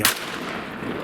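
A single shotgun blast while duck hunting, one sharp crack at the start that fades into a short outdoor decay.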